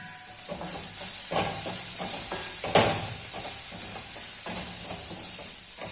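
Noodles and chicken fry in a pan under a steady loud sizzle and hiss, with a utensil scraping and stirring in uneven strokes close by and one sharper clatter midway.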